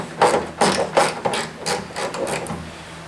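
A ratchet works the fender bolts loose on a GT racing World Challenge car, a string of quick clicking, scraping bursts in an uneven rhythm, close and moderately loud, with no talking.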